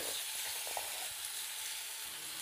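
Washed cauliflower going into a pan of tomato and spice masala, a soft steady sizzle with faint stirring scrapes, fairly quiet and close.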